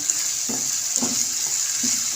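Potatoes with salt and spices fry in a pan for saag aloo, a steady high sizzle broken by three soft scraping stir strokes at roughly even intervals.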